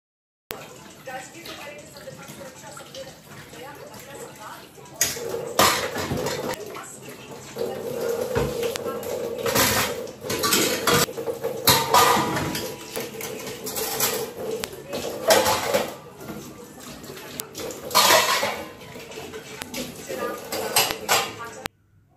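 Dishes, pots and pans are washed by hand in a home kitchen, with water running steadily from a tap and repeated clatters and scrapes of utensils knocking together, close and fairly loud throughout.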